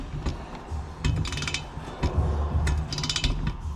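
A torque wrench ratchets on the exhaust bolts of a Thermal R&D cat-back exhaust being installed on a 2023 Polaris Slingshot, with close bursts of rapid clicking and metallic knocks, repeated several times without talk.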